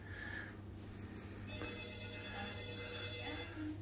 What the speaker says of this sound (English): and the phone's ringing. They want to talk to us already.